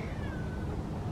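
A cat meows once in a long, drawn-out falling tone against steady outdoor background noise, close and clear.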